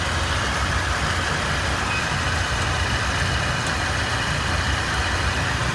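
A car engine idles with the air conditioning running on a fully charged refrigerant system while the A/C compressor cycles. The steady, close engine hum stays even throughout.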